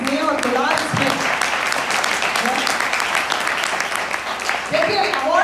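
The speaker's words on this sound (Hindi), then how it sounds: "अवार्ड मिलना बहुत बड़ी बात होती है, तालियां कम है। जोरदार तालियां" Audience applause at an award ceremony during a theatre festival, steady and dense clapping that fills the whole stretch, swelling slightly near the end with no talk over it.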